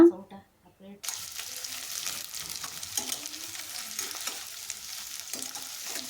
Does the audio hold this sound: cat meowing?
no